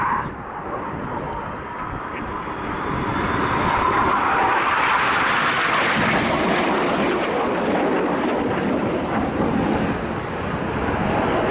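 Red Arrows jets roar overhead while flying the Cyclone manoeuvre at RIAT 2013, a loud, broad jet-engine rush that swells and holds steady throughout, with faint voices underneath.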